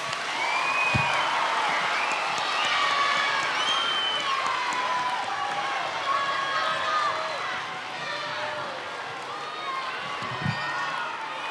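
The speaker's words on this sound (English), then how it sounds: "Let's give them a round of applause." A school audience applauds and cheers at the end of a quiz round at the Mason Intermediate School Black History Bowl; steady clapping with youthful whoops fills the hall throughout, loud and continuous.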